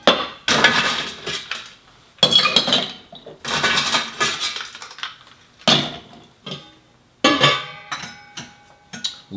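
Ice cubes clatter and rattle into a metal cocktail shaker for a Hanky Panky with Fernet Branca, coming in several loud, close bursts of clinking separated by brief pauses.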